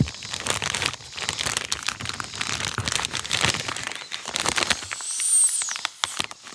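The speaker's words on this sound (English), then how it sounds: "the way I'm going to do it is I'm going to zip my bag up" A plastic zip bag is pressed and zipped shut by hand, giving close, irregular crinkling and rustling with a few sharper crackles and a brief high squeak near the end, without speech.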